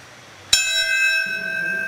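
Bell tolling at the 9/11 memorial in Lower Manhattan: a single sharp strike rings out after a short quiet, then hangs as a long, clear sustained tone that slowly fades.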